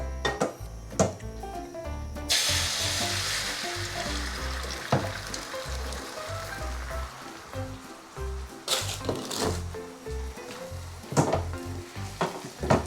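Egg frying in oil in a Teflon pan for a thick, soft Japanese-style rolled omelette: steady close sizzling crackle with scraping and tapping of a utensil against the pan.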